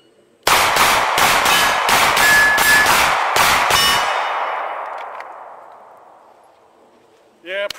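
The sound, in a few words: gunshots from an FN 509 pistol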